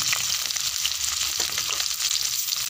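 Onions hit hot oil left from frying fish for a masala fish curry, giving a loud, close, unbroken sizzle and crackle from start to finish.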